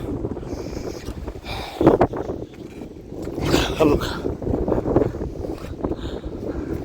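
Strong wind at sea aboard a deep-sea fishing boat, a loud gusting roar that swells and buffets the microphone while someone talks over it.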